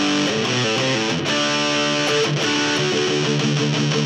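A cheap guitar amp with the reverb turned to zero plays a dry, trebly, harsh tone, with a loud close run of strummed and picked notes and no voices.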